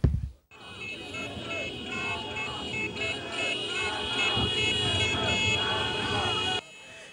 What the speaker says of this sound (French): Concert de klaxons et autres bruits